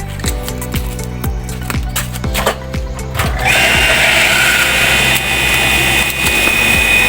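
A small engine, apparently a water pump, is cranked with repeated rhythmic pulls that sputter. It then catches and settles into a loud, steady high-pitched running drone that continues to the end.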